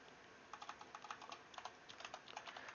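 Computer keyboard typing, a quick irregular run of light key clicks, close and fairly quiet, with no talking.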